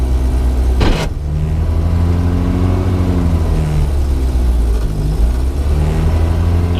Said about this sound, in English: Notice the sound, that was the reverse gear.